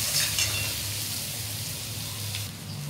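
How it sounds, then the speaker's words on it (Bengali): Onion and ginger frying in a home kitchen pan, a continuous close sizzle with a low steady hum beneath it and a few brief stirring scrapes. "দিয়ে ভালো করে পেঁয়াজ আর আদা ভাজা ভাজা করে নেব।"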